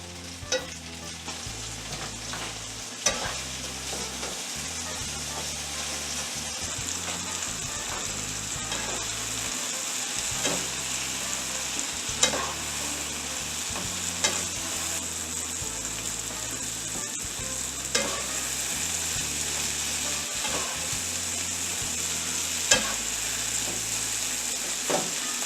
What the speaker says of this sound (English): we're going to sweat these down real good